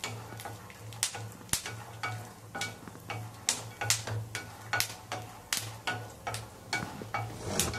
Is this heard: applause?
no